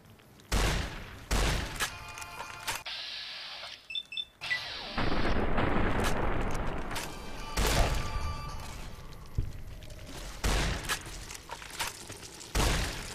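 Shotgun fire in Fallout: New Vegas: loud, sharp blasts spaced irregularly over several seconds, mixed with other game noise and brief clattering, and no talk over them.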